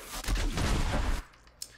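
The Beacon gun fires in the video game Borderlands 3, producing a loud, booming blast with a rumbling tail lasting about a second, then quiet except for a faint click.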